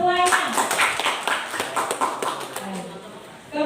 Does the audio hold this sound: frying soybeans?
no